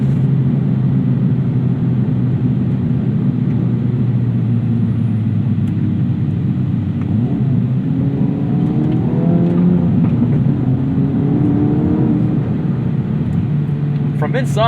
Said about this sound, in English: the exhaust still is pretty quiet. But I do like that you can hear those crackles and burbles